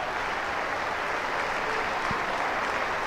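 A crowd applauding in the stands at the Kia Oval cricket ground during a one-day cup match, continuous steady clapping from a large, distant-sounding audience.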